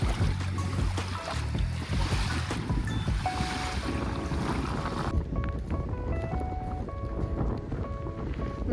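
Steady broadband wash of sea waves and wind at Matinkylä, Espoo, continuous and fairly loud, with a few faint tonal chirps later on.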